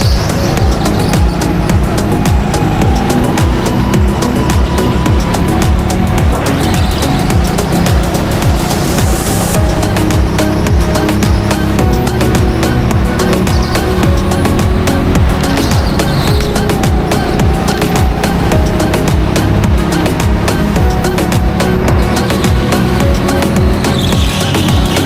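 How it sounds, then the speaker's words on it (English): Go-karts race around an outdoor track, producing a constant loud, buzzing engine drone from a distance that continues throughout, with faint tyre noise. "the kart just doesn't want to turn"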